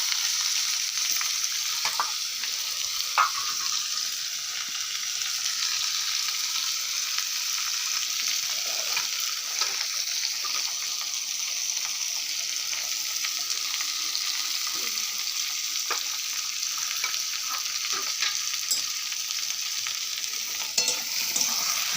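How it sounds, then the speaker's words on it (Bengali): Potatoes and onions fry in a pan with a steady, close sizzle that runs throughout, broken by scattered scrapes and clicks as they are stirred. "আলুগুলো ভেজে নিলাম, পেঁয়াজ দিচ্ছি, সব কিছু দিয়ে ভালো করে লাল লাল করে আলুগুলোকে ভেজে নেবো।"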